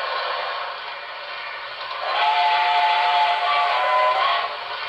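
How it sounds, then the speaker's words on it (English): On an HO-scale Reading T1 4-8-4 model steam locomotive, a whistling, hissing steam turbine spins up and powers the front headlight. The sound is steady and fairly loud, rising in strength partway through with a thin tonal whine. "There's a steam turbine spinning up to light the front headlight."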